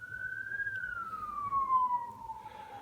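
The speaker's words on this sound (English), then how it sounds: "Pre-dawn, and still screaming sirens." A distant emergency siren wails before dawn in one long tone that slowly falls in pitch, over a low hum of traffic.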